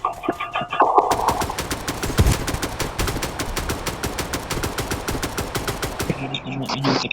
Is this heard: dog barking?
no